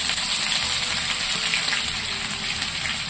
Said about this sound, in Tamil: இந்த வெங்காயம் கண்ணாடி பதம் வரும் வரைக்கும் வதக்கிடுவோம்.